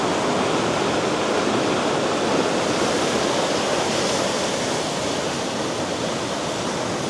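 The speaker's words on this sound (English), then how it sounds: "Bell's Rapids when it's flowing." Rain-swollen rapids at Bells Rapids surge in a dense, steady roar of rushing water, loud and close, continuous throughout with no voices.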